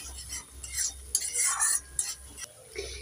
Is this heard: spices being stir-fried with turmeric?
yes